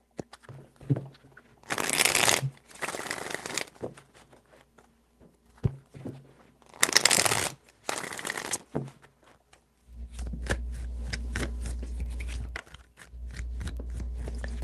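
Tarot cards shuffle in two short, crisp flurries of riffling, each a second or two long, separated by quiet stretches, followed by a softer, low, steady hum.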